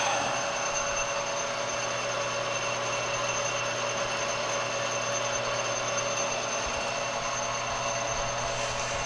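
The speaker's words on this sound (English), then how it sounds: "get a center drill going here" Steady mechanical whine of a center drill cutting metal, a constant humming tone with high overtones running unbroken, no voices.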